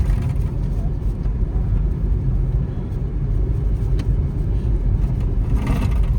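A fully loaded car, packed with market shopping for a memorial ceremony, drives with its engine straining in a loud, close, continuous rumble that barely changes over several seconds.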